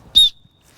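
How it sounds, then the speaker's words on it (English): A distress whistle on a Fjällräven Singi Stubben backpack gives one short, shrill, loud blast, close up and then quickly silent. "And you've got a distress whistle as well,"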